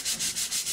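A paper template is rubbed flat onto aluminum sheet for a gun mount bracket, giving four quick, even strokes of close, papery rubbing.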